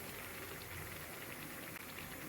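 Potato bajji in gram-flour batter fry in hot oil with a steady, dense hiss and crackle that holds evenly throughout, with no pauses or distinct events.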